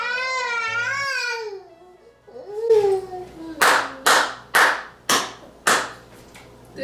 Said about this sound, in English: I give that a hand clap.